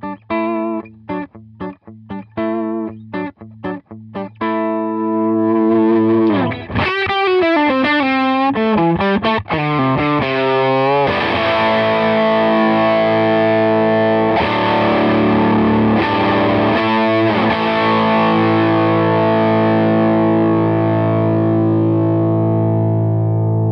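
Electric guitar through a 5E3 Tweed Deluxe tube amp with heavy, saturated overdrive: a few choppy chords, then a bending lead line over sustained, gritty distorted chords, loud and close.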